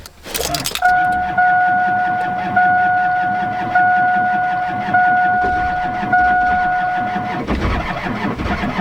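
A car engine cranks over repeatedly while failing to start, a loud rhythmic starter whir in regular pulses, with a steady high electronic tone sounding over it.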